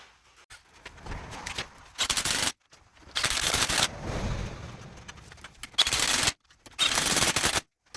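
An impact wrench works on a full-size Jeep front axle shaft, firing in several loud rattling bursts of a second or two each, separated by brief silences, close up in a garage.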